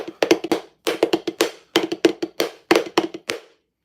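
Drumsticks play a ratamacue rudiment: repeated clusters of quick grace-note taps ending in an accented stroke, crisp and close, then silence.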